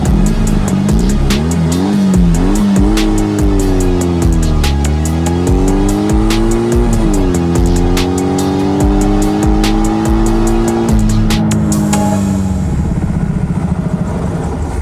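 Ural motorcycle at full throttle on a speed test, its engine loud and close, climbing through several gears with rising and dropping pitch, the exhaust note steady and strained for most of the run.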